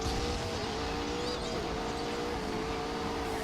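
A car engine roars steadily at high revs through a power slide around a corner in The Grand Tour Game, with a sustained tire squeal rising and falling over the loud, continuous motor.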